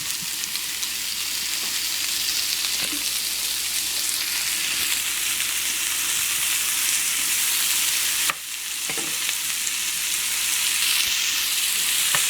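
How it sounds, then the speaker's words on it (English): Sausage sizzles loudly in a pan of caramelized onions for chicken bog, a dense, continuous frying hiss with a brief dip partway through. "you're going to want to add in your sausage. So here it goes."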